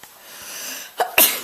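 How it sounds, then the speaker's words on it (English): A single sharp sneeze bursts out near the end after a brief inhaling build-up, close and loud in a quiet indoor morning setting. "Every morning I have to sneeze, otherwise it will not be a great morning or whatever."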